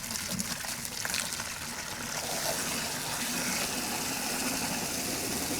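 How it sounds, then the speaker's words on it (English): Water pouring steadily into buckets while getting ready to hand wash an orange Suzuki Swift Sport ZC33S, a continuous rushing fill with a faint engine-like hum beneath, and no talk. "Fill up both buckets."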